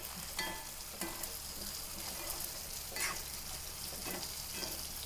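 Shrimp roast with curry leaves sizzles steadily and softly in a pan, a continuous frying hiss with faint stirring scrapes and no voices.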